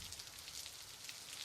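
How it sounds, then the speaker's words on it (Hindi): Rain falls outside as a faint, steady hiss of fine patter, soft and continuous with no voices over it. "तो बरसात बंद होने वाली नहीं है, जल्दी मत देखो बाहर।"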